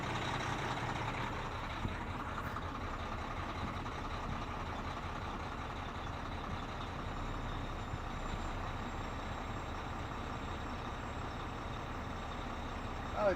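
A truck rumbles nearby in a steady, continuous engine drone, heard with no talk over it.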